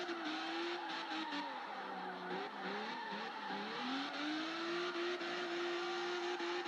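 A Lotus race car in the Assoluto Racing video game drifts with a continuous whining engine and a steady, wavering tire squeal, sustained and even in level throughout, with no talking.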